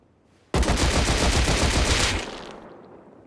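Automatic gunfire in the video game Rust, a loud rapid burst of shots starting abruptly and lasting under two seconds before fading out.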